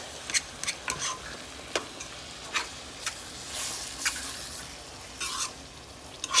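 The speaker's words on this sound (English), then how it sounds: "So now what I'm doing is adding in my tomato sauce." Tomato sauce and diced tomatoes being stirred in a pan for a homemade lasagna sauce, with a faint sizzle under scattered clicks and scrapes of a utensil against the pan, no talking.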